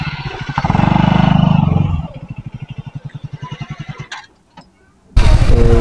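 A KTM Duke 250 motorcycle engine revs loudly up close, then settles into a rhythmic, pulsing idle while being parked, dies away briefly, and returns loud at the end.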